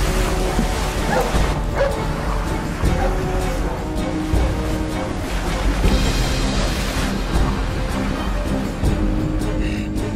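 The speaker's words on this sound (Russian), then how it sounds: "Майор, собаки!" Dogs barking during a chase in a Russian drama series, with yips and barks buried in a dense, loud mix of music and action noise that runs continuously without pause.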